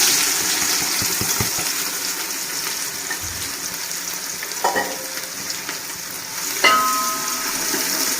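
Onion hits hot oil in a tempering of bay leaf, green chili and curry leaves, giving a steady, close sizzle with a few sharp crackles and utensil knocks throughout.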